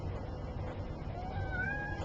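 A house cat gives one rising, drawn-out meow near the end, moderately close and fairly soft over a low background hum.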